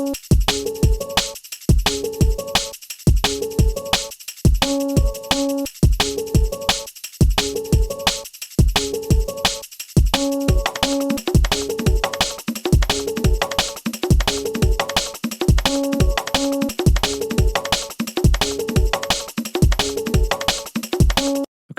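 A loud, repeating drum and bass percussion loop with crisp hits in a tight, steady rhythm, driving continuously without pause.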